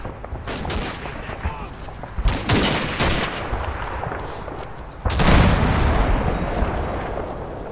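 Machine gun fire in the Combat Mission WWII game with a German Kampfgruppe: repeated sharp bursts and booming shots crackle over a dense battle background, with heavier bursts near the middle and end.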